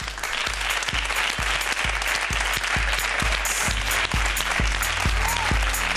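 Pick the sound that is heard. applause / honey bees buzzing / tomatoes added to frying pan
applause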